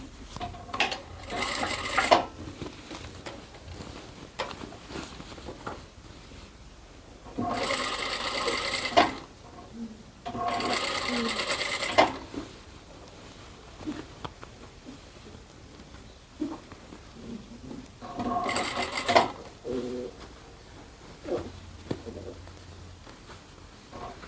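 A sewing machine stitches a fabric tote bag in several quick bursts, each running a second or two, separated by quieter pauses with faint handling of cloth.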